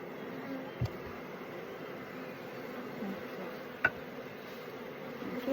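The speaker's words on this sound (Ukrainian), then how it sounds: "бджоли, не дивлячися на погоду, працюють дуже добре" Honeybees buzz steadily at apiary hives in the background, a faint droning swarm with a couple of brief clicks, no one speaking.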